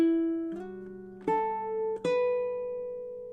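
A baritone ukulele plays a slow fingerpicked riff of four plucked notes, each ringing clearly and separately with gentle spacing, recorded close and alone without any voice.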